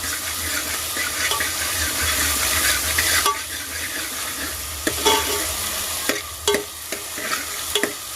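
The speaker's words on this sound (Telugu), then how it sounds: "ఫ్రై చేసుకోవాలండి." Mushrooms frying for a curry, sizzling steadily in a pan while being stirred, with scraping stir strokes and a few sharp clinks near the end.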